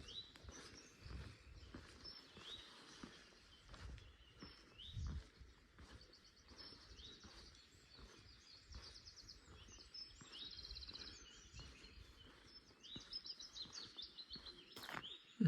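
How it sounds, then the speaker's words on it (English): Willow warbler singing among buddleias on a coastal cliff road at St Lawrence in spring, its song fairly distant and faint, in short repeated phrases over quiet outdoor ambience alongside other birdsong. "It's a willow warbler, very nice."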